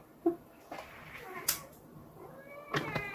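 A house cat gives several short, faint meows spaced across a few seconds, with small clicks and rustles in a quiet room.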